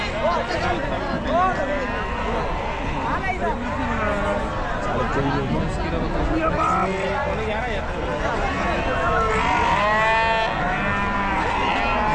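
Sheep and goats bleat repeatedly amid the bustle of a large livestock market at Chakan in Maharashtra, with people talking steadily over the animals.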